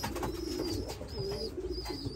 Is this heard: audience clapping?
no